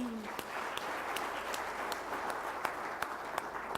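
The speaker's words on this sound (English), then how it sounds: "A big clap for her." Audience applause at a Sikh sports awards ceremony, a steady dense wash of clapping lasting throughout, with a few sharper individual claps standing out.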